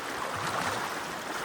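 A large river on the border between Tanahun and Lamjung rushes steadily with a broad, continuous watery roar, close by and unbroken, with no voices.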